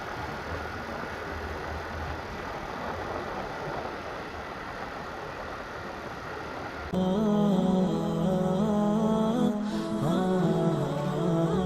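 A motorbike engine idles and runs on a forest road through Bandipur National Park. A steady, fairly loud drone grows fuller and more tonal partway through, over a soft background hiss.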